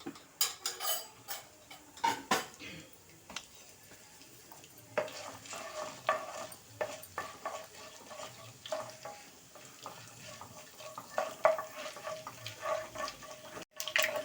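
Urad dal, chana dal and a dried red chili frying in hot oil with cumin for a amaranth-leaf stir-fry, a steady sizzle broken by frequent scraping and clinking of a spoon stirring in the pan, close and moderately loud, no talk.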